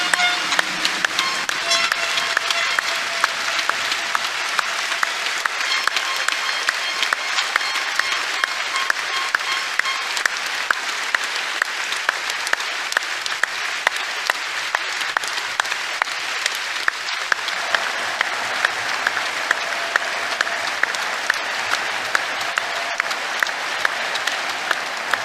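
A basketball crowd holds a minute of applause, with steady, dense clapping filling the arena the whole time and a brief dip partway through.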